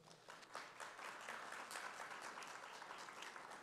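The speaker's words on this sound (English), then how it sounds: "I think we need to give them a round of applause" An audience at an awards ceremony claps in steady applause that holds throughout at a fairly faint, distant level.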